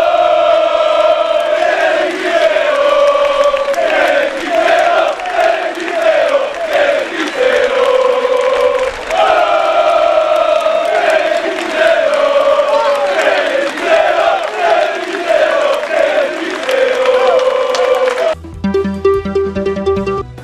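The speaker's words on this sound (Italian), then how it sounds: "i tifosi tutti hanno lanciato cori per Emanuele ed il padre" Football supporters chant together at a funeral for a young man and his father in a town square, a loud, sustained crowd of voices singing in rising and falling phrases that fill the whole stretch before cutting off abruptly near the end.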